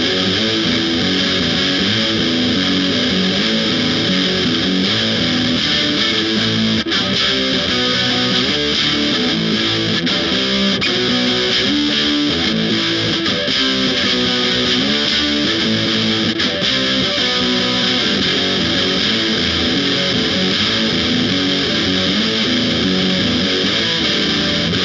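A Fender Jag-stang electric guitar played through a DF2 super distortion and feedbacker pedal, a dense, loud, heavily distorted wash of chords that continues without pause for the whole stretch.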